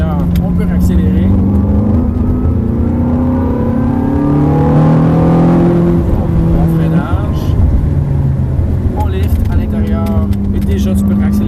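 Ferrari accelerating on a race track, a loud engine note rising and falling through gear changes and revs, close and continuous, with someone talking over it.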